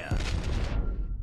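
Warship guns firing in the naval game World of Warships, a single heavy booming salvo with a sharp onset and a rumbling tail that fades within about a second.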